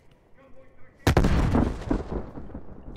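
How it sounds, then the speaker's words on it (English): A grenade detonates in a multiplayer bomb-defusal shooter after a quiet stretch of faint teammate voices: one sudden loud blast with a long rumbling, crackling decay, and scattered gunfire-like pops following. "Grenade out."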